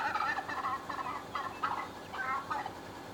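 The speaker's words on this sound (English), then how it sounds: "have y'all ever heard a hen gobble or gobble that much?" A wild turkey hen in Wyoming gobbles repeatedly in quick, rolling bursts, clear and fairly close, with no talk over it.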